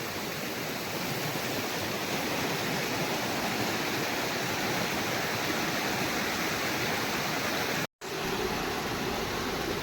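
Steady rushing water of a stream flows continuously and loudly, a dense broadband wash with a brief dropout near the end.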